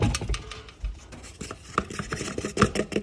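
Egg white bread batter for gluten-free keto bread is stirred by hand in a bowl, giving uneven scraping and rubbing strokes with soft knocks, close up and with no talking.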